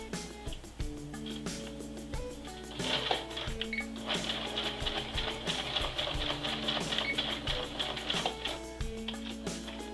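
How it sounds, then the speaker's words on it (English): Sewing machine stitching in the ditch along a cuffed pants hem, running steadily at close range with a fast, even mechanical rhythm of needle strokes and no talk. "And we'll stitch in the ditch."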